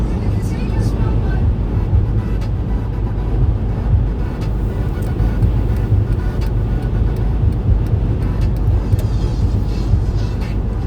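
A car cruises at about 120 km/h on Highway 401 in light holiday traffic, giving a loud, continuous low road and engine rumble with steady tyre noise inside the cabin.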